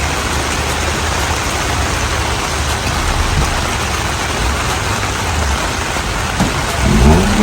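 Heavy rain pouring down at a wet outdoor exotic car autocross event, a dense, loud, steady hiss with no break, and a faint engine rumble rising near the end.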